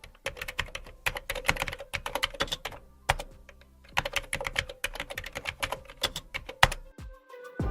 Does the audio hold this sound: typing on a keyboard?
yes